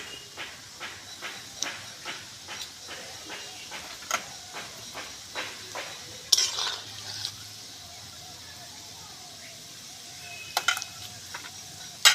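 Prawn muitha (shrimp dumplings) frying in white oil in a hot wok, a steady sizzling hiss with repeated sharp crackles and spatters, fairly close, later settling to a softer simmer with occasional pops.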